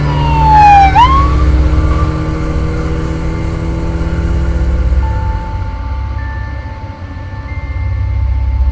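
An ambulance siren arriving in the Sakura School Simulator game starts with a loud falling wail, then settles into steady held tones over a low engine rumble, with no voices.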